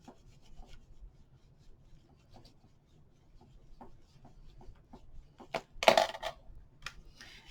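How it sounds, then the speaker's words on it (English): Glued paper being burnished down by hand, soft intermittent rubbing and scraping strokes, quiet and close, with a louder burst of firm rubbing near the end. "And then press down, burnish that in."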